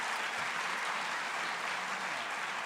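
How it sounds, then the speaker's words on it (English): A live audience at an event in Portland applauds, a soft, even wash of many hands clapping at a distance, steady and unbroken throughout. "If you could give them a huge round of applause for making this possible."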